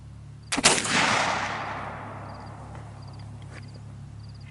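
A .32 Pedersoli Kentucky flintlock rifle fires one shot through a chronograph outdoors, a sharp crack with a brief priming flash before it, then a long fading boom and faint beeps afterward.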